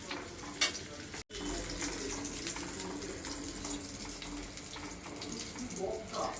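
Kachori pastries fry in hot oil during home cooking for a Saraswati Puja gathering, giving a continuous bubbling hiss throughout with a brief clatter near the start.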